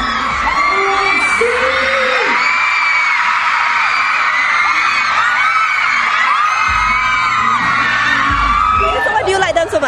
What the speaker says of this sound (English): their fans, most of them young teenage girls,